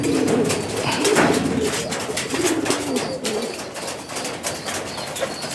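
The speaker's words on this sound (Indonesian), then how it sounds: "Nih burungnya, posisi baru meloloh." A pigeon coos in low, throaty pulses and flaps its wings while feeding its young, close up, with fluttering bursts and soft cooing running continuously throughout.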